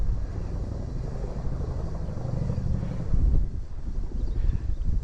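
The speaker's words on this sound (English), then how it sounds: "a Chinook has turned up on the horizon. Two Chinooks are on the horizon." Two Chinook helicopters fly low over open countryside, heard as a steady rumbling rotor drone under outdoor wind noise.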